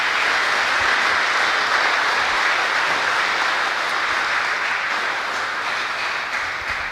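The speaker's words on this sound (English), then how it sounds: "please help me give a round of applause to the employers who support the armed forces" An audience applauds employers who support the armed forces at an Armed Forces Day 2021 event, a dense, steady wash of clapping that holds at an even level for the whole stretch and thins only slightly near the end.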